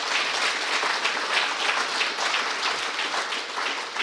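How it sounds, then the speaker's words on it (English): An audience gives a round of applause after Prof Geofrey Mukwada's inaugural lecture, with steady, moderately loud clapping from a roomful of people that continues evenly throughout. "Let's give him a round of applause once again."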